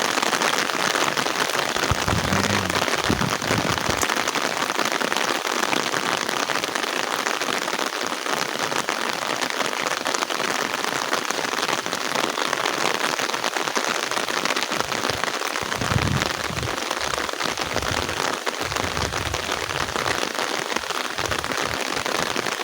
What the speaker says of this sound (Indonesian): Hujan.